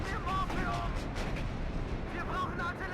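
Artillery fire in the WARNO video game, heard as dense, overlapping booms and rumbling blasts that continue throughout, with a voice speaking over the barrage.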